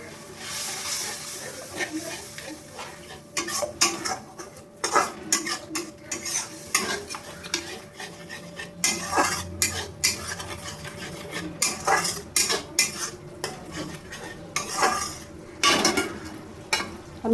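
Egg curry masala being stirred and sautéed in a pan: a spoon scrapes and clanks against the metal in uneven bursts over a soft sizzle, close and fairly loud, with no speech.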